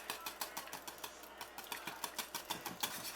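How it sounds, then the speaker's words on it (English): Eggs and olive or vegetable oil are whisked together in a bowl for bacon cornbread batter, giving quiet, quick, evenly spaced strokes that run without a break and with no talking. "Whisk it all together."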